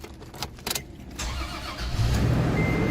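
A 2013 Toyota Tundra with an intermittent no-start fault cranks, catches and settles into a steady close idle, the engine noise swelling after a few brief clicks.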